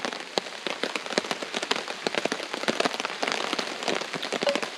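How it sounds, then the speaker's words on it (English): Steady rain falling in Wales, a dense patter of drops striking surfaces nearby, with sharp individual splats and crackles over a constant wash, continuous and fairly loud with no voices. "see if the old Welsh rain eases off a bit"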